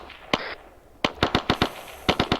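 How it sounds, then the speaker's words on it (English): Gunfire in the military video game Arma 3 during a platoon training firefight: a single sharp shot, a pause, then rapid bursts of loud, close cracks in quick irregular succession, with no speech over them. "Continuing with firefight."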